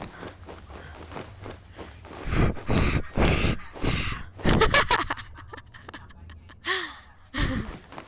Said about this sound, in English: Her breathing sounds wrong